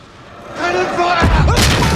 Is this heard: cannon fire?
yes